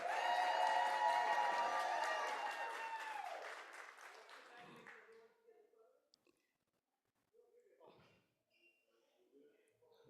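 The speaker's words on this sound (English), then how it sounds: "Please give them a round of applause." Applause from the audience at a student oratorical competition rings out loudly, then tapers off within a few seconds, followed by near silence with faint shuffling and murmuring.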